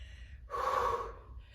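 One loud, close breath, a sharp gasping inhale-exhale, heard during a high intensity resistance training workout, with soft breathing before and after it.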